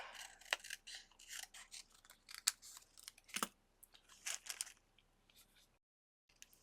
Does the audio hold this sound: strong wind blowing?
no